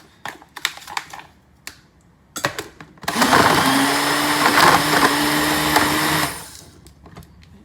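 A blender mixing a berry daiquiri whirs loudly for about three seconds after a few scattered clicks and knocks, then winds down, leaving quiet tapping.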